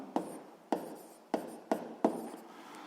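Pen or chalk strokes scratch out a physics formula in five distinct bursts, each starting with a tap and trailing into a soft rasp, close and alone with no talk.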